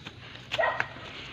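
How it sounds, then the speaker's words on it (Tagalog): A dog barks faintly in the distance, two quick yips over low outdoor background noise just after rain on muddy ground. "may tumatawag pang aso"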